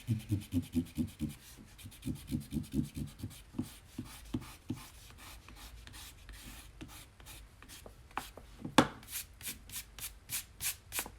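An eraser rubs back and forth over hand-lettered paper in quick, rhythmic strokes, close and fairly quiet, with short pauses between bursts of scrubbing and no talking.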